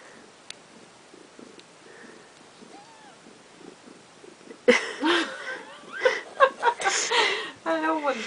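Day-old newborn kittens squabbling over a teat, bursts of high squeaky mewing and scuffling that start abruptly midway and come close and loud, after a quieter opening with faint soft sounds.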